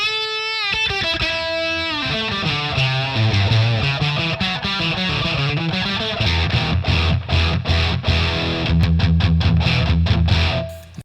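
An electric guitar played through a Boss DS-1 pedal with its distortion turned down rings out in sustained notes and chords, then shifts to rhythmic, chugging low-end strums with sharp stops near the end, loud and close.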